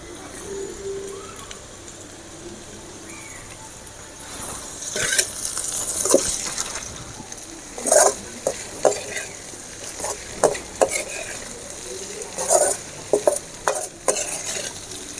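Okra (vendakkai) being stirred and sautéed in a pan with salt: soft background sizzle with intermittent spatula scrapes and clacks growing busier later, close by, with faint bird cooing in the background.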